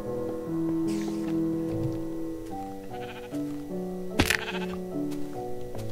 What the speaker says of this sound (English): Oh my gosh, you poor sheep! You okay? Poor sheep!